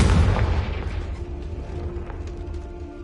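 A Confringo spell explodes in Hogwarts Legacy with a loud, deep boom that decays into a low rumble, leaving a faint humming game ambience behind.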